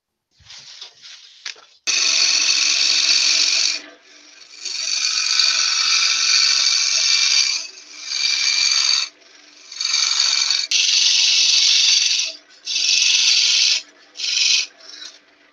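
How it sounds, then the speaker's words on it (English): Spinning turned wood on a lathe is polished with Yorkshire grit woodturner's abrasive paste, giving loud bursts of dry rasping friction that start and stop repeatedly, with brief quiet gaps between passes. "Stick a bit of Yorkshire grit on that."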